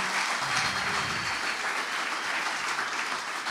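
A live audience applauds a rock singer, a dense, even burst of clapping held at full strength for the whole span, with a faint voice briefly audible at the start.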